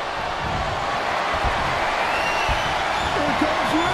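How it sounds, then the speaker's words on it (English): Dense arena crowd noise at a WWE Royal Rumble wrestling match, a steady roar of many voices with scattered whoops and shouts rising near the end, with no clear individual speech. "This crowd is on pins and needles."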